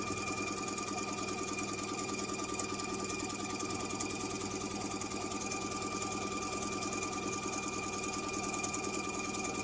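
A sewing machine runs a seam down an apron strap to the bottom edge for a Kitchen Prints apron, giving a quiet, even, continuous motor hum and needle patter with no pauses or voices.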